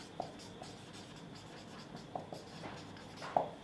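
Chalk or a marker writes on a classroom board, faint scratchy strokes with a few soft taps scattered across a quiet room, close but very low in level, with no talking.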